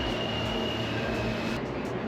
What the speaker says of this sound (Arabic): باش ناخذوا المترو توا